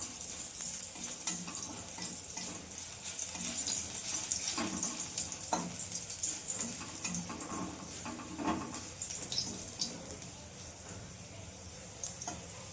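Garlic sizzles in hot oil as a tempering for pumpkin greens cooked with lentils, a steady close frying hiss with occasional stirring scrapes and pops and no talk over it.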